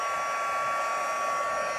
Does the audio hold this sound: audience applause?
no